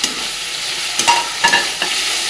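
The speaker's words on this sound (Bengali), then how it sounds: "ঝিঙে আলুটা ভেজে রেখেছিলাম সেটা দিয়ে দেবো" Fried ridge gourd and potato go into a pan of sautéed spice paste with cumin, turmeric and salt, giving a soft sizzle broken by a few scraping stirs of a spoon.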